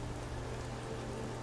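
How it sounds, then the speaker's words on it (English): In Skyrim, game rain falls steadily through a poorly sealed cobblestone shelter, a dense, even hiss of drops with no pauses and no voices. "I don't know why there's rain coming through here"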